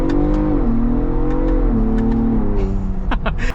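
A 2023 Ford Bronco Raptor accelerating at full throttle, a loud close engine drone rising in pitch with gear-shift dips, steady and alone without voices.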